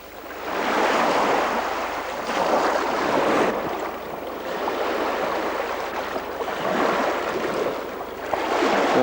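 Sea waves wash onto a stony Estonian shore in repeated surges that build and fade, a broad close roar with some wind on the microphone and no talk.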